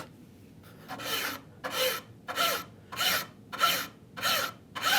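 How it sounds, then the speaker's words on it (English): A file rasps across a brass round-head screw in seven even strokes, each a bright, close scrape with a brief pause between, steady in rhythm and heard alone. "The nice thing about brass is it's so easy to file."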